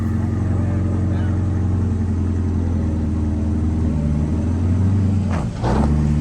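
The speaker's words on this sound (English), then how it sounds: "if you put it in reverse, it kind of just, oh, it's driving good now" A 2022 Corvette C8 with a faulty transmission backs up in reverse, its engine a steady low drone that shifts in pitch near the end, with voices heard faintly over it.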